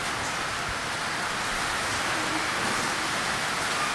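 Steady heavy rain falls outside near a Rotax 912 aircraft engine, a constant even hiss of broadband noise with no break for the full length and no voices.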